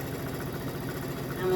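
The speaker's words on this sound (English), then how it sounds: "now I'm going to sew the other piece, the big rectangle, on top of there" A sewing machine stitches quilt fabric pieces, a big rectangle onto a small square, its motor giving a steady, close mechanical hum that runs unbroken and swells slightly at the end.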